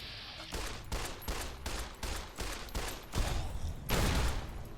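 Rapid bursts of gunfire in the post-apocalyptic shooter Fallout New Vegas, roughly eight repeated volleys in quick rhythm, loud and close, with no talk over them.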